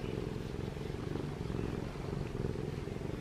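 A cat purrs steadily while being scratched, a close, continuous low rumbling hum with no talking.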